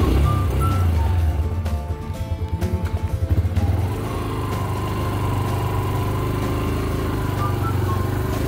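Engine of an enduro off-road motorcycle ridden by an older man on a rural farm road, a steady mid-level drone with a throaty pulsing patch early on, then settling into an even running hum.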